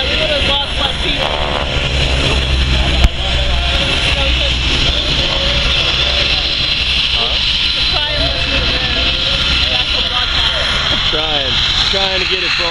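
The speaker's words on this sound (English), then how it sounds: "You can't hear over the jet." A jet aircraft engine roars continuously at an outdoor air show, a loud, steady blast that persists throughout while people talk underneath it.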